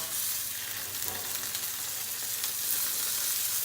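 Salmon fillets sear in a hot pan just after flipping, giving a steady, close, loud sizzle and crackle with no talking.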